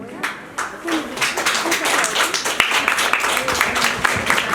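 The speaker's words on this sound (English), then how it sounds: "audience, please keep on, okay, clapping" An audience at a 2023 convention claps steadily, a dense patter of hands that builds and holds, with someone talking over it.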